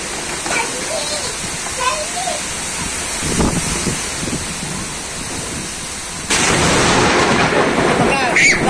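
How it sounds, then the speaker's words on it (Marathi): Heavy rain pours steadily in a Marathi monsoon downpour with thunder and lightning. Low thunder rumbles roll underneath and surge louder near the end, and a voice speaks over the storm. "बघा गाजा विजा खूप जोरात पाऊस येतोय."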